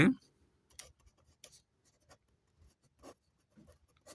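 A pen writes an answer by hand on paper during a class 4 math lesson, giving a series of soft, brief scratching strokes that come in short bursts, with quiet speech between them.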